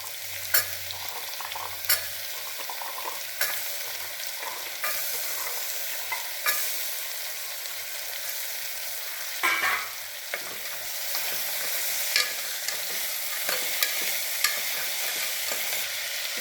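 Soaked chickpeas and potatoes are sautéed in a pan for a kurma, giving a steady sizzle under a spoon that scrapes and stirs every few seconds. There is no talk.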